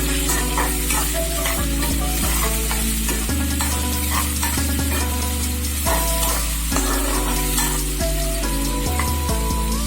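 Large chopped onions frying with salt in a pan for Tamil-style pasta give a loud, continuous sizzle, with stirring scrapes and a steady background music bed, no voices.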